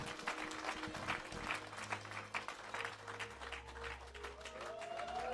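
A church congregation applauds and cheers in praise, steady clapping from many hands filling the hall, with a sustained organ or keyboard tone underneath.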